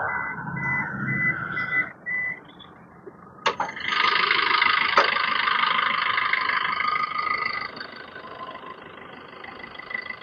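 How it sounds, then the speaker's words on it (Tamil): A car engine starts with a push button and settles into a steady idle, a sustained humming drone following a short mechanical click and whine, heard fairly close. "இன்ஜின் ஸ்டார்ட் ஆயிடுச்சு."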